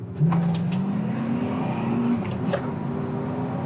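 A 1972 Oldsmobile Cutlass S muscle car engine revs up steadily as the car pulls through the gears, a loud, close, continuous drone that rises in pitch, with no talk over it.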